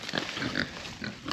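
A pig named Henry, penned on a farm, gives a few short close grunts and snorts in a brief, uneven burst.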